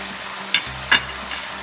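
Spices frying in a pan: a short burst of steady sizzle with two quick metallic scrapes of a spoon stirring, close and clear, no voices.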